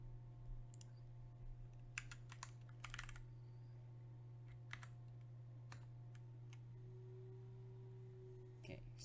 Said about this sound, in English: I'll do a typing test that you can see.